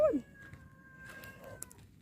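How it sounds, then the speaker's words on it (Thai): A stray cat from a nearby factory gives one short, faint meow at the start, followed by quiet background noise and small rustles. "แมวจรมาจากโรงงาน"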